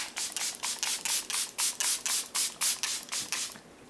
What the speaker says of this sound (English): I'm going to take my Charlotte Tilbury setting spray.